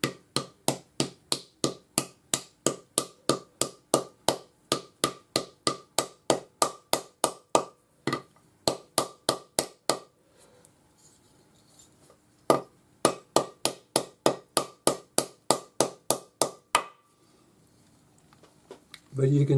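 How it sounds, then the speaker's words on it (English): Rapid, evenly spaced metallic hammer blows flatten a leaf bangle on an anvil, a long run of strikes, a brief pause, then another steady burst, loud and close. "go ahead and hammer it flat"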